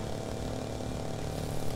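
Gimbal jet engine on a hovercraft in the video game Trailmakers, a steady droning roar with a low rumbling pulse, holding at an even level throughout.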